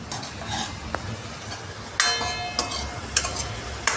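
Onions fry in a pan for pav bhaji, a steady sizzle under a spatula stirring and scraping, with several sharp clinks of metal against the pan in the second half.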